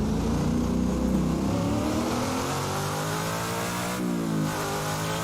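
A car engine in the Assetto Corsa racing game drones as its revs fall, the steady mid-pitched hum sliding lower with a brief shift near the end.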